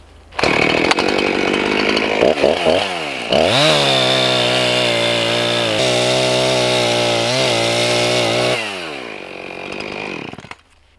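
A loud chainsaw with a dull chain revs and bogs as it cuts through wood, engine pitch rising and falling, running continuously for several seconds before cutting off.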